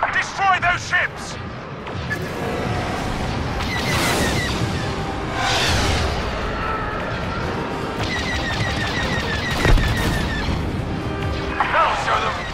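Rapid blaster fire and crashing explosions in the space combat of the video game Star Wars Battlefront II, dense and continuous across the clip, with bursts of laser shots and a layer of game noise throughout.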